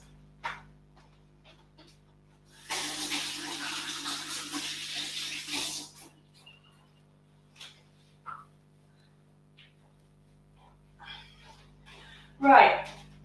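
A kitchen tap runs for about three seconds as hands are rinsed, a steady wash of water, with scattered clicks and a brief clatter after it in an otherwise quiet room.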